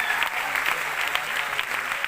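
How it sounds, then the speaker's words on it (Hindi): A short, steady burst of crowd clapping at a business achievement meeting for a wellness company team, lasting about two seconds with no voices on top. "जोरदार तालियां।"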